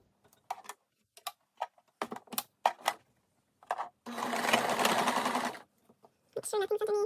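Sewing machine stitches a zipper pocket scrunchie in a rapid, steady whirr of about a second and a half, preceded by scattered clicks and taps and followed by a shorter final burst of stitching.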